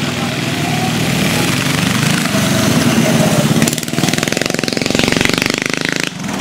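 A mini dirt bike and a mini dragster racing, small engines buzzing in a harsh, rapid staccato that stays loud and close, with the pitch shifting as they rev partway through.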